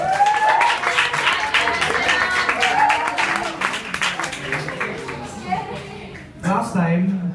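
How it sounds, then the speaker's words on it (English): Audience applause at a live music show, dense clapping and cheering from a close crowd that carries on steadily, with a few voices and whoops rising over it near the end. "Round of applause"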